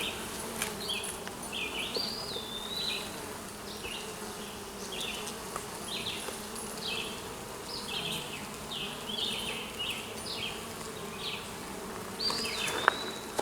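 Honeybees buzz steadily around an open Kenyan top bar hive during a one-month checkup. The hum is soft and continuous and lasts throughout, with faint scattered chirps in the background.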